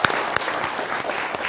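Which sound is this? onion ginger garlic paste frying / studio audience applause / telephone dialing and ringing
studio audience applause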